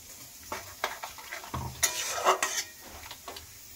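Okra cooking in a pan just after water is added: a soft, wet sizzle broken by irregular stirring scrapes and light utensil clicks, fairly quiet and close, with no voices.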